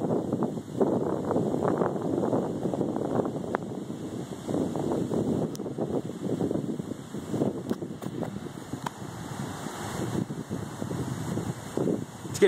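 Gusty wind ahead of an approaching storm buffets the microphone with continuous low rumbling roar that rises and falls throughout, loud and close.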